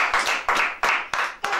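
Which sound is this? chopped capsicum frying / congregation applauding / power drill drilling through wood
congregation applauding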